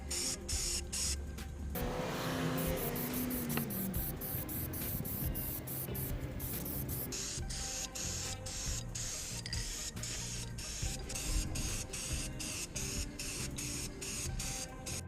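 A rattle can of spray paint hisses in long continuous bursts as a final coat goes onto an aluminum Smokercraft boat, with brief pauses and clicks between passes, close and steady.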